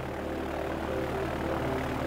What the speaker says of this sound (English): This is a model of a five-cylinder radial engine.